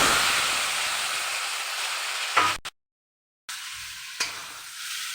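Chicken meat fries in a pan with a steady, bright sizzle that fades briefly, drops out into silence for about a second, then resumes with a small stirring clatter.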